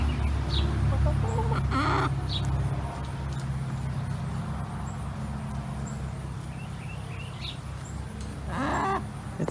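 Backyard homestead chickens giving a few short clucks and squawks under a steady low hum and outdoor background noise on a hot day.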